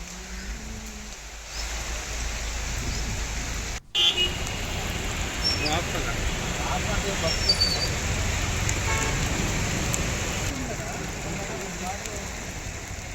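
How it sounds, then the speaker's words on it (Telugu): Steady hiss of heavy rain pouring onto surfaces in Hyderabad, with a brief cut partway through and faint traffic sounds underneath. "నగరంలో పలు చోట్ల భారీ వర్షం కురిసింది"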